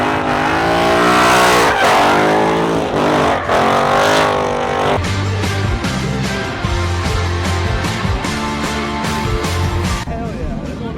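A race car driving hard on a track, engine loud and close with rising and shifting revs, then a steady buzzing drone with rapid ticking texture; voices come through intermittently over the engine.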